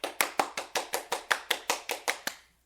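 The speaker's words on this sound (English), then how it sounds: "Everybody give her a round of applause." Roughly a dozen sharp, evenly spaced claps from a single pair of hands during a podcast, close and crisp, slowing slightly before stopping abruptly.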